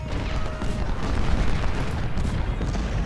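Cannon fire from Civil War artillery batteries in Ultimate General: Civil War, a dense, continuous rumble of low booms and bursts rolling together at a steady loud level with no pauses.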